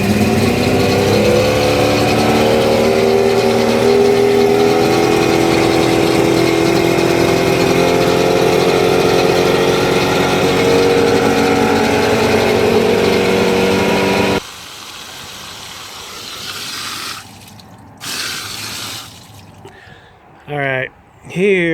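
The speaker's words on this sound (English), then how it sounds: "Alright, here we go, engine start." A Force 125 hp outboard boat motor fires up and runs loud and steady for about fourteen seconds, then cuts out, leaving quieter clicks and brief noises.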